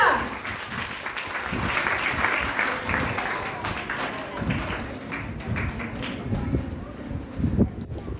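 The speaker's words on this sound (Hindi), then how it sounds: "आपकी भरपूर तालियों में रबिया।" An audience at a school's annual prize distribution ceremony applauds teacher Rabia with sustained, dense clapping. Sharper individual claps stand out within it, and a few voices are faintly mixed in.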